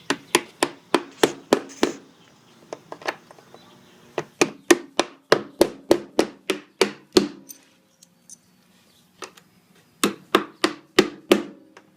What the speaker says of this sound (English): Just evenly space them and kind of pound them on one by one, working way around.